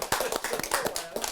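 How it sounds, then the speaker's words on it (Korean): An audience at a lecture gives a brief burst of applause, with close, rapid hand claps lasting just over a second. "박수 한번 칠까요, 우리 한번?"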